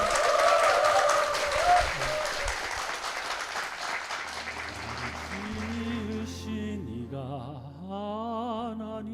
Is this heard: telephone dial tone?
no